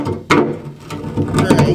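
A tailgate latch on a Chevy truck being pushed in by hand gives a sharp mechanical clack, followed by a few further clicks and rattles of the latch parts, close and fairly loud.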